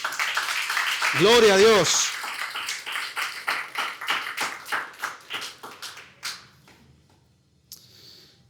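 A church congregation claps for the Lord in a brisk, steady rhythm of sharp hand claps that fades toward the end; a voice speaks over the start and the clapping continues alone.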